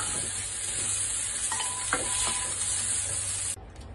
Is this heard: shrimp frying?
yes